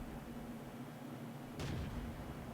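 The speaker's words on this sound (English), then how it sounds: "Artillery drivers love shooting at lightly armoured vehicles because their high explosive shells are gonna do full damage." A single artillery shell impact bursts out in World of Tanks, a loud broadband blast about two-thirds of the way through over a steady low battlefield rumble.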